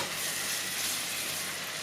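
Two kinds of chopped onions frying in a pan, stirred now and then, giving a steady, bright sizzle that holds evenly and close throughout.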